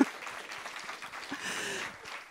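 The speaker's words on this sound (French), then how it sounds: "Et on les applaudit" Faint, scattered applause from a gathered audience at a talk, soft and somewhat distant, continuing for a couple of seconds.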